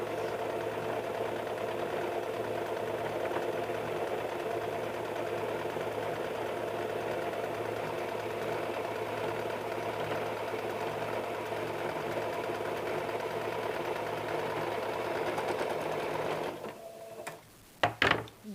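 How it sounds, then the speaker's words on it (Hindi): A sewing machine runs steadily, double stitching a size 40 blouse with four tucks, its even mechanical whir continuing for a long stretch before stopping with a few clicks at the end. "अब इसमें हम डबल सिलाई कर लेते हैं ताकि ये मजबूत रहे।"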